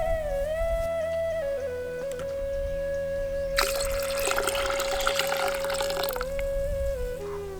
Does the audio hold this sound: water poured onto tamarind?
yes